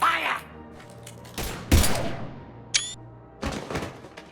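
Sci-fi gunfire in Mass Effect: a few sharp, loud shots and bursts spaced across a few seconds, with a brief electronic whine between them, heard alone without talk.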